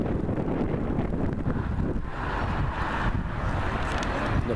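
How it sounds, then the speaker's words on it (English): Steady wind roars and buffets the microphone on a sunny day in Edinburgh near the castle, a continuous low rumble with gusty swells and no talking. "A bit windy though."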